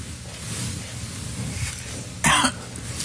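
A single short cough cuts through a steady background murmur on a morning television show set, brief and fairly close.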